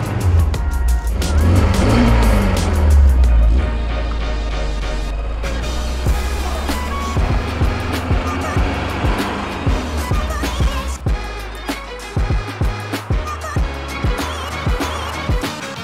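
A 1971 Volvo 1800E drives on the road, its engine droning loudly and steadily, with revs rising and falling and rhythmic pulses under the engine note near the end.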